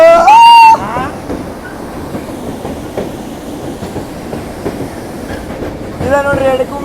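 A Vistadome coach rolls along the scenic Sakleshpur to Subramanya line, with a steady rhythmic clickety-clack of wheels on rails and a brief high squeal at the start and near the end, plus faint voices.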